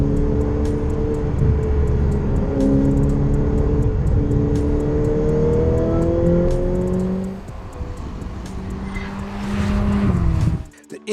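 Ferrari F8 Tributo with a 720-horsepower engine derived from the 488 Pista, heard driving past with rising and falling gear-change tones, a brief lull, then a renewed surge before an abrupt cut; no talking.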